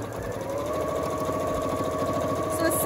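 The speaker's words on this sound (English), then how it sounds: "I'm just sewing to the end, and I'm not back stitching any" Sewing machine stitching fabric for a pincushion and mug mat sampler, a steady loud rapid needle chatter with an even mechanical hum, close by and continuous throughout.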